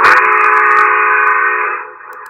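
A loud, sustained chime whistle from a Lionel model train blows steadily for about two seconds, then fades out.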